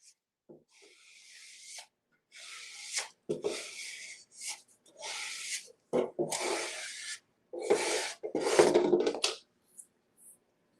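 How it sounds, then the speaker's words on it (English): A squeegee is dragged over material on a plain metal bucket in bursts of scraping, rubbing strokes separated by silences, close up and fairly loud, with a few sharper knocks among the passes. "we're going to use a squeegee so that we don't have any shrinkles and also move that product underneath"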